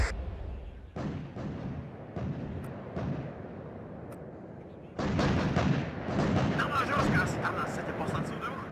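Artillery batteries firing in the WARNO wargame, a series of sharp booming shots at irregular intervals, then a denser rumbling barrage of blasts and crackles, with someone talking over it.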